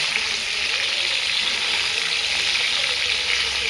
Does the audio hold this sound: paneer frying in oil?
yes